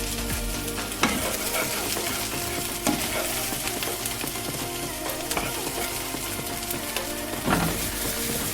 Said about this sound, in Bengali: তারপর আস্তে আস্তে পেঁয়াজের পেস্টটা তেলের মধ্যে ভেজে নেব।